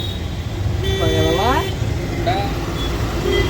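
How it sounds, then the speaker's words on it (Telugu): Heavy road traffic in Prayagraj: a dense, steady roar of vehicles with a few car horns tooting close by through the middle. "ట్రాఫిక్లో అయితే ఉన్నాము ఇప్పుడు మేము ఫుల్ ట్రాఫిక్"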